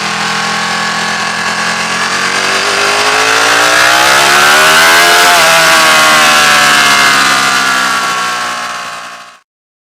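A Ducati Panigale 1299 S superbike ridden hard on a fast bumpy road, its engine roaring loud and close, pitch climbing and sweeping through the revs to a peak midway, then holding high before cutting off abruptly.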